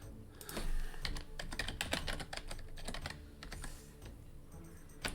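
Rapid, steady computer keyboard typing, close and fairly loud, with dense clustered key clicks running throughout and no voices.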